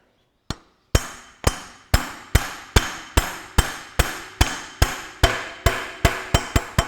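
A front pulley is tapped onto the crankshaft of a 1954 Ferguson TEA20 tractor: one light hammer blow, a short pause, then about a dozen sharp metallic knocks in a steady rhythm that quicken at the end, close and clear with no talk.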